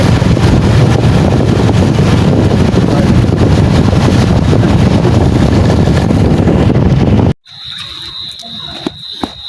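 Wind roars and buffets the microphone of a pillion rider on a moving motorbike, a loud steady rush lasting about seven seconds before dropping abruptly to near quiet with a faint tone and a few small knocks.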